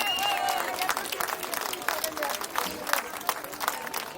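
A crowd of about 800 protesters at a liberty demonstration in Nice claps steadily and densely, the applause close and continuous with voices and a few cheers rising through it.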